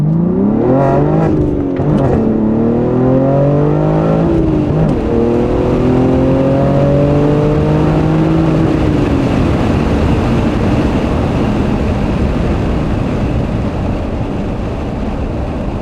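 A BMW G80 M3 with the S58 engine and aftermarket exhaust accelerating from 0 to 60, its loud exhaust note rising through quick gear changes, then settling into a heavy roar of wind and road noise.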